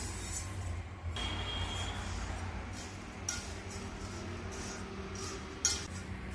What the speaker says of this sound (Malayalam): എടുത്തു വെച്ച ഓട്സ് ഇതിലേക്കിട്ട് വറുത്തെടുക്കാം.